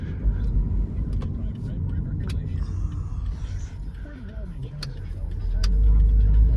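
A car's steady low engine and road rumble while driving at 1 a.m. on a rural road near a small graveyard, continuous and close, swelling louder near the end, with a person talking over it.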